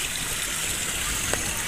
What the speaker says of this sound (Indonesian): masih ada pancuran dengan air yang sangat besar, menggelogok dan juga bersih